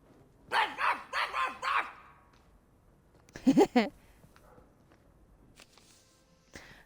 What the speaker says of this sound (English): Oh, that dog.